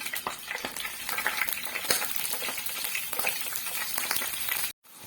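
Steady crackling sizzle of chopped onion sautéing in hot oil in a pan, loud and close, with brief stirring clicks and a short drop out near the end.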